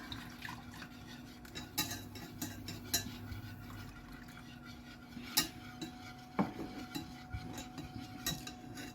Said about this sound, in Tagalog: I-mix-mix lang natin para magiging thicker.